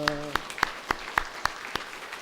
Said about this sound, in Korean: 우리 가브리엘 찬양대 앙상블 감사합니다. 박수하겠습니다.